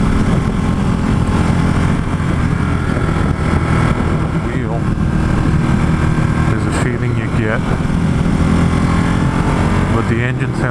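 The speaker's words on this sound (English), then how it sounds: "But the engine sounds great." A Ducati Hypermotard engine drones steadily and loudly throughout, with wind rush and road noise, as the rider moves along at speed.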